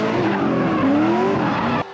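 Race cars at Sebring skidding through a corner transition, loud tires squealing with a rising tonal screech over engine roar, then cut off abruptly.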